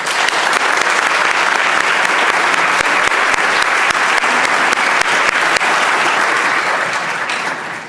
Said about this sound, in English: I'd ask that the House to give Michelle Lee a warm round of applause.